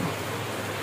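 Heavy morning rain falls as a dense, continuous hiss that fills the brief moment with no other sounds.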